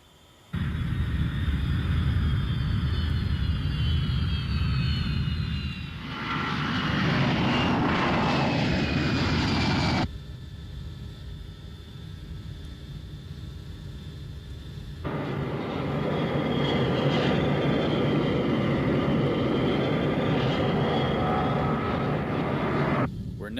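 Steady loud drone of an airplane engine in flight, part of an anime film soundtrack, filling the whole stretch with a changing rumble and a softer passage near the middle; no speech over it.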